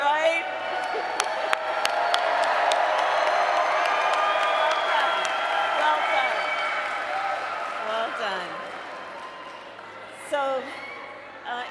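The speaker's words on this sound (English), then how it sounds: "Give them an applause" Crowd at a 2024 campaign rally applauding and cheering, with scattered whoops over a steady sustained roar that fades toward the end.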